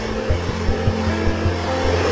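A hand-held hair dryer blows a steady, loud whooshing stream of air onto a woman's arms and legs, with a low motor hum and small rhythmic pulses running throughout, no talking.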